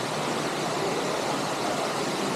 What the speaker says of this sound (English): One of the nice waterfalls around Hanging Rock.